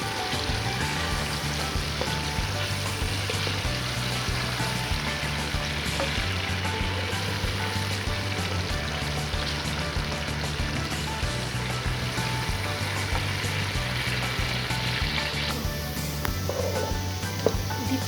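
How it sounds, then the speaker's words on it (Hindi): Onions frying in hot oil in a cooking pot, a steady dense sizzle with crackling that runs unbroken and fairly loud throughout, with no talking. "अब हम इसमें अनियन डालेंगे फ्राई होने के लिए। अनियन को हमें गोल्डन फ्राई करना है।"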